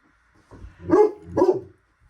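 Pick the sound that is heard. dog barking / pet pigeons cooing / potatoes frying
dog barking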